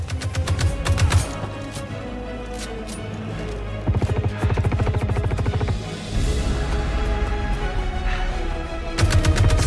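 Loud bursts of rapid automatic gunfire from Squadron 42 game combat, with dense rattling volleys at the start, through the middle and again at the end, layered over a heavy rumbling low background.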